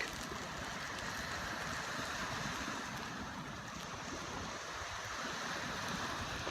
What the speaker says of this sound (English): got some pretty good waves